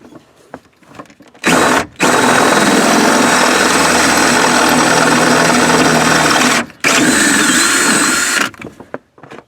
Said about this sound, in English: drill a hole behind the brake pedal, and then we're going to enlarge it to a 5/16